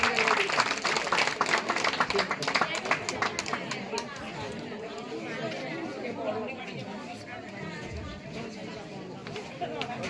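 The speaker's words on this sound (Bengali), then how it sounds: "সবাই জোরে হাততালি পরমব্রত" An audience at an honouring ceremony claps for Parambrata Dalal, with loud dense applause that thins into scattered claps amid crowd chatter and nearby voices.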